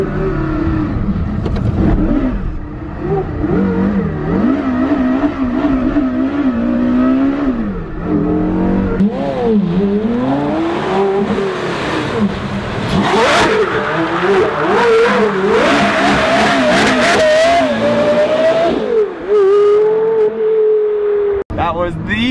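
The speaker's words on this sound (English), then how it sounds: "perfect drift right there. In a Carrera GT." A Porsche Carrera GT engine revs hard and continuously while the car drifts, the pitch rising and falling with throttle, loud and close, with someone talking excitedly over it throughout.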